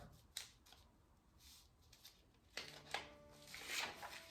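Scissors cut through folded jacquard fabric for a bodice, a quiet series of soft snips and rustles that grow a little crisper toward the end, with no speech.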